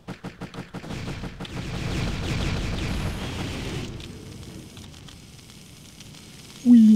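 Enemy fighters fire on a spacecraft in the space game Transcendence, a rapid string of sharp blasts at the start giving way to a dense, crackling barrage that fades out toward the end.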